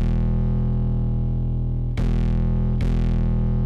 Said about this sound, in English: it sounded kind of shitty on its own, but when I put it through the Behringer and the distortion